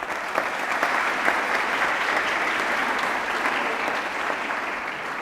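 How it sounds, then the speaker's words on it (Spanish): Dense, steady audience applause welcoming a guest named Ricardo to a talk on stage, many hands clapping together at an even level throughout with no break. "Un aplauso a Ricardo."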